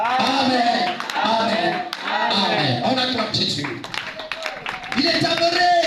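A church congregation claps to acclaim Jesus during a French-language service, rhythmic hand claps mixed with loud voices and singing throughout, close and lively.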